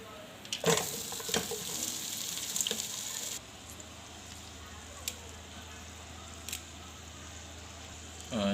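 Bitter gourd fries in a rice cooker with a soft, close sizzle and scattered clicks and stirring noises that quiet partway through, leaving a faint hum with occasional small taps.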